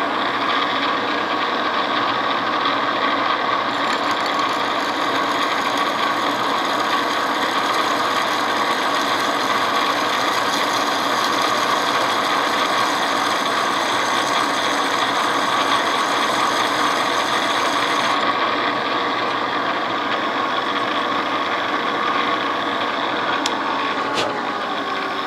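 A drill press grinds steadily into a metal wheel, a continuous whirring mechanical drone with a brief pause in pitch late on, no voices.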